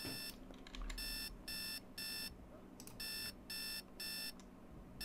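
An alarm clock in a life-simulation game rings in regular, evenly spaced bursts of bright electronic beeping, a short pause between each group, fairly prominent over a faint voice in the background.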